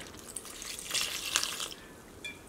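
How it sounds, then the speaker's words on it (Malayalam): Water is poured into a bowl of fried chicken batter, a faint, brief trickle and splash that swells in the middle and then settles, with no voices. "കുറച്ച് വെള്ളവും കൂടിയും ചേർക്കാം."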